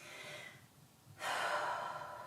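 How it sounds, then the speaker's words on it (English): Slow, deep breathing during a yoga flow: a soft, close exhale fades out, followed by a strong, airy inhale that carries to the end. "We're going to take a breath in here."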